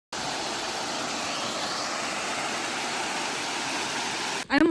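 Blue Falls, a tiny waterfall in Meghalaya, gives a steady, even rush of falling water throughout, and a voice breaks in briefly at the very end.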